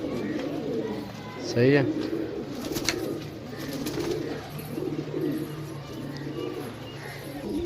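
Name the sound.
pigeons cooing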